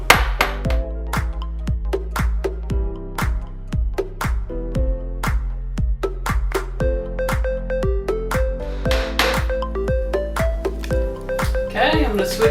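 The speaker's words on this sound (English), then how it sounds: "I'm going to start hammering it so it's flat" Rapid, regular metallic hammer strikes flattening a silver bracelet on a block, each hit sharp and bright with a short ringing decay, continuing steadily throughout.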